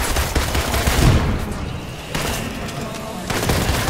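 Rapid turret fire in Marvel's Avengers, dense crackling bursts overlapping with combat noise and a talking voice, loud and continuous with brief dips.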